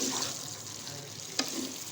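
Mixed vegetable sabzi frying in a pan while being stirred, with a steady sizzle, soft scraping, and a brief clink of the utensil near the end.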